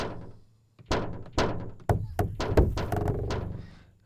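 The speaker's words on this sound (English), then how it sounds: "that one kayak sound now has this cool effect on it" Transposed-down kayak hull sample processed with an effect, played as a series of deep hollow thunks, sparse at first and then quicker and overlapping into a dense rhythmic run before fading.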